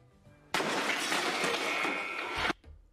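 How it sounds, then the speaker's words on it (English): A bowling ball dropped onto a glass table smashes it, a sudden loud broadband crash and shattering that holds for about two seconds and then stops abruptly. "You're going to drop that bowling ball off this balcony and hit that glass table and break it."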